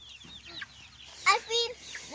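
Backyard homestead chickens cluck and squawk while pecking at flowers, a string of close, sharp fowl calls with a louder burst near the middle.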